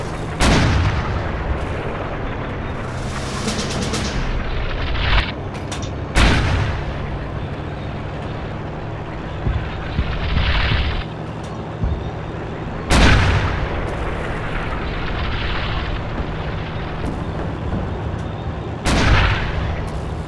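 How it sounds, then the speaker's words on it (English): Artillery fire in a multiplayer war video game battle sounds as repeated loud, sharp booms at irregular intervals over a constant rumbling din of distant combat. "Yeah, are you firing on this building, Simon?"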